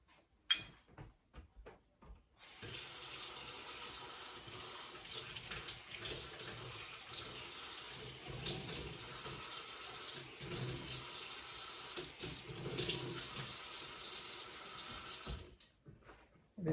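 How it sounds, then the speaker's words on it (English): Tap water pouring steadily into a measuring spoon for a mini apple pie mixture, a continuous hissing stream that starts after a few soft clicks and stops abruptly near the end. "And I'm going to add some water."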